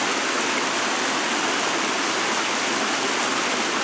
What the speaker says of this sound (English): There's that little step falls at the base.